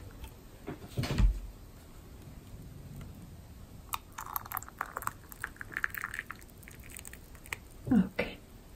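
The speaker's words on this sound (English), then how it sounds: "I boiled some water to fill in this cup" Freshly boiled water poured into a cup for tea in a quiet indoor setting, a steady close trickle lasting a few seconds, framed by sharp clinks and handling knocks before and after.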